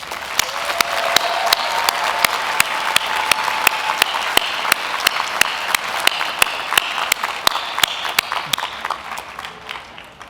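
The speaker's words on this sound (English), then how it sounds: "So please join me right now in giving them a round of applause." An audience at a 2022 USC Gould law school graduate and international programs commencement gives steady, full applause throughout, with individual loud claps punctuating the continuous wash of clapping.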